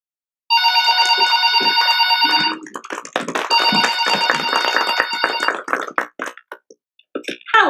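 A home telephone rings in a steady electronic trill that repeats loudly and alone, then gives way to scattered knocks and handling clatter.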